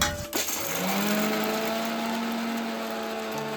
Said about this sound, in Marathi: आता मिक्सर मध्ये ना आपण सर्व बारीक करून घेतोय.